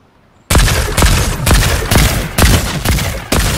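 Friendly bot grenades detonate in a Marvel video game, a rapid string of loud, close blasts about every half second after a brief quiet start, each burst cracking and rumbling like gunfire.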